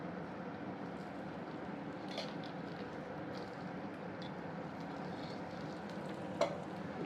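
Paratha cooking on a hot pan with ghee spread over it, a soft steady sizzle that runs evenly throughout, close but quiet, with a faint brief tap near the end.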